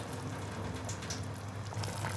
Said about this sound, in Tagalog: Dagdagan ko pa ng isang balding tubig.